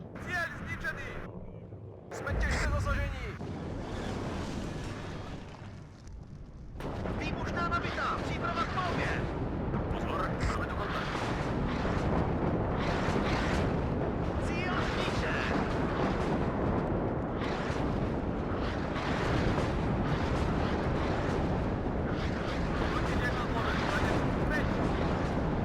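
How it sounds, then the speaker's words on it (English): Yashtoka artillery firing in the WARNO war game, heard as a continuous, dense roar of booming blasts and rumble that stays loud and steady throughout, with a brief lull early on. "I can hear the Yashtoka firing there on the side, it's so nice"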